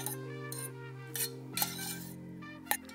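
A spoon clinks against a bowl while coconut lime rice with chopped parsley is stirred together: a few light, scattered clinks, faint and close, over a soft steady background tone.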